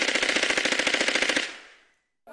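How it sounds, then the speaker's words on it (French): A rapid burst of automatic gunfire rattles in quick, evenly spaced shots for about a second and a half, then trails off into a fading echo before silence; no screams stand out. "Et là, tu entends une rafale de coups de feu et des cris à l'intérieur."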